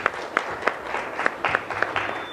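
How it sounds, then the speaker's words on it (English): A room of people applauds for Dr. Gola at an HR professionals' panel event, a brief round of clapping with sharp peaks that rises and fades over a couple of seconds. "Let's clap for Dr. Gola."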